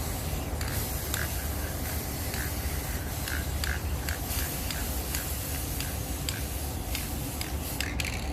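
Gold spray paint hissing from an aerosol can onto a mirror frame, a continuous close broadband spray with short bursts and brief clicks of the nozzle throughout.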